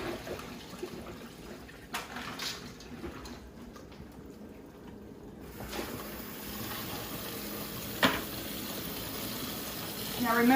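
Water runs and splashes as cucumbers and other vegetables are rinsed of salt water and ice for bread and butter pickles, a continuous moderate flow with occasional clunks and a louder surge at the end.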